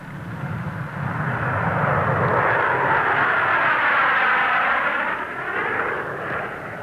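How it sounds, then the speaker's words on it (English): A Douglas DC-9 jet airliner takes off from Long Beach on its first flight, a loud, sustained roar that swells and sweeps past with a shifting whine, then begins to fade. "the first DC-9 to fly took off from Long Beach on its first flight test"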